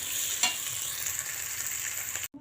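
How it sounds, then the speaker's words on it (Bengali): Pointed gourd (potol) pieces fry in a pan, giving a steady, soft sizzle with a faint stirring scrape early on, before the sound cuts off abruptly at the end. "পটলটা ছোট ছোট করে ভেজে নিলাম"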